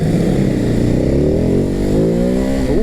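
Ducati Hypermotard 950 engine revving hard on the throttle, its loud, close tone climbing steadily in pitch as the bike accelerates, with no voices over it.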